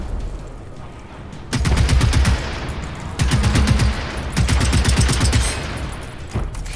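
Rapid automatic gunfire in the video game Generation Zero, several loud sustained bursts of closely spaced shots separated by short pauses, with harsh sharp reports dominating throughout.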